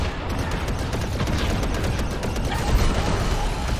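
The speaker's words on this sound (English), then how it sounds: "We have to shoot out their radar dishes." Rapid laser cannon fire from starfighters in the LEGO Star Wars: The Skywalker Saga video game, a dense, continuous barrage of blasts and booms filling the whole stretch at steady loudness with no voices.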